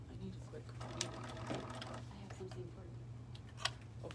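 A sewing machine runs in a steady stitching whir at a home sewing session, fairly quiet, with a few small clicks and people talking over it.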